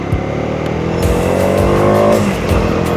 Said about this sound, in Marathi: काय मजा येते बाईक चालवायला